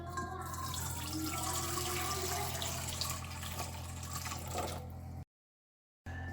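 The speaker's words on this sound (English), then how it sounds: "Put your warm water into a large mixing bowl." Warm water running into a large mixing bowl while making homemade pizza dough, a steady close pour with a low hum underneath, ending in a brief silent gap.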